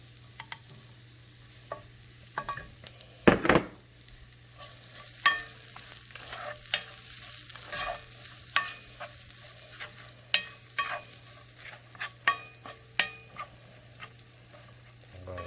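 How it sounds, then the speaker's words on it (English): Onions sizzling and frying in a pan as they begin to caramelize, a steady soft sizzle punctuated by repeated stirring scrapes and clatters, close up, with no talking. "I'm going to go ahead and throw our onions in. And we want to cook these onions until they are caramelized"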